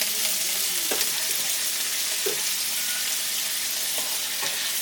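Diced potatoes and carrots fry in a hot pan for a breakfast chire pulao, giving a steady, dense sizzle throughout with a few brief scraping stirs, close and moderately loud with no talking.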